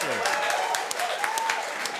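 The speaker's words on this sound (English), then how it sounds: "A big round of applause for Mr. David Seymour" Studio audience applauding David Seymour, leader of ACT and MP for Epsom, on a televised political panel show; steady dense clapping throughout with faint voices mixed in.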